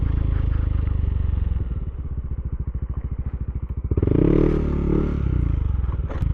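A Yamaha Aerox scooter rides over a rough, unfinished road, its engine droning steadily up close while loose clatter and thumps from the bumpy surface ride on top, swelling louder near the end.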